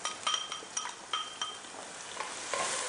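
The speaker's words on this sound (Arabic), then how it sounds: "وناخذ هالمعلقة هاي، حبتدي أقلب البصل. حقلب البصل لغاية ما يغمق لونه كويس." Minced onions sizzle in a frying pan while a spoon stirs them, bright clinks and scrapes of the spoon against the pan over a soft continuous frying hiss, close by.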